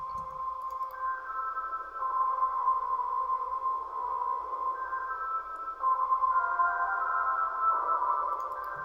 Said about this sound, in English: This is just me humming into the microphone or singing into the microphone.